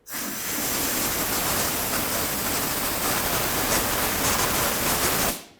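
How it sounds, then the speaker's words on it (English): Compressed air blasting debris off the front brake hose area of a 2010-2017 Chevrolet Equinox, one loud continuous hiss lasting about five seconds before cutting off abruptly. "I'm actually going to blow it off with some compressed air"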